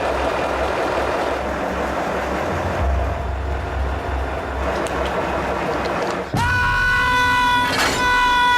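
A loud, close train rumbles past with heavy rolling noise, then a shrill tonal horn or squeal cuts in near the end.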